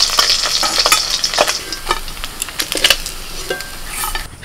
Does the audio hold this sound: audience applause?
no